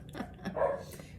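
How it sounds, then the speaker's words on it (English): A pet dog at home gives a few soft, short barks and yips, fairly faint and muffled, as though heard from another room or through a doorway. "Of course, there goes my dog."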